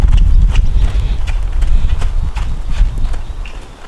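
Horse hooves clip-clop loudly and close by as the mare picks up her pace, the quick, even beats carrying clear rhythmic thuds throughout with no talk over them.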